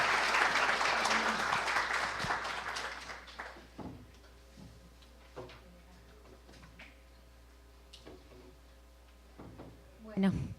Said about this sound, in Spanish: les pido un aplauso para la maestra Nora Lía